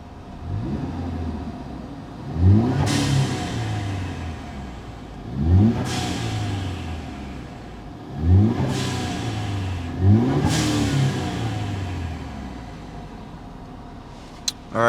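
A 2015 Ford Fusion with a Steeda cold air intake idles and is revved four times, each rev sweeping up sharply and falling back to a steady idle, loud and close.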